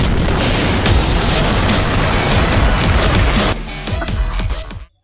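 Sea mines detonating in an anime battle, a dense continuous run of booming blasts and rumbling explosions that fill the scene loudly, then thin to scattered bursts before cutting off abruptly.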